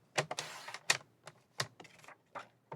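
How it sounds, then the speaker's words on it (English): Paper being cut to size for an easel calendar, a run of sharp close snips and slicing strokes in irregular bursts, loud and alone with no talk. "I'm going to cut this one at"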